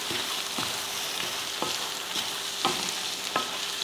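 Egg stirred into a peppery frying mixture in a pan, a steady close sizzle broken by regular scraping strokes of a spoon about once a second.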